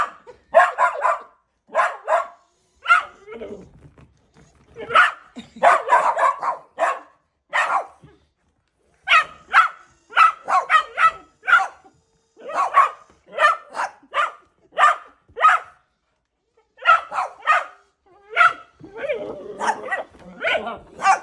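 Several dogs bark repeatedly at a battery-powered toy mouse, a close, loud series of sharp barks and yips in bursts with brief pauses, some higher whimpering yelps mixed in, and no talking.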